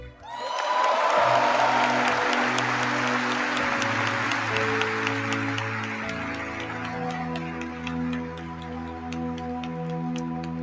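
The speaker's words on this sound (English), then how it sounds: "Give a big round of applause to the Ground Forces Band." A large audience claps loudly for a military ensemble, the Ground Forces Band, with cheering mixed in while sustained band notes ring underneath; the applause stays dense and steady throughout before easing slightly.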